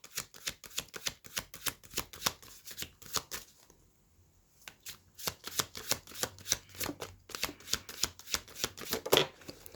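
A deck of tarot cards being shuffled close by, with rapid riffling flutters in quick repeated bursts, a brief pause midway, then steady shuffling resumes, no talking.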